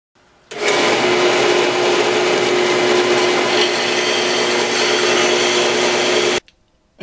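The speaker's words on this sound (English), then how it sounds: "So the last little bit, I go over to the belt sander and just get that right up to, and still leaving on the line" A belt sander smooths the edge of a carbon fiber part, starting abruptly and running loud and steady with a high whine and gritty rasp for about six seconds before cutting off.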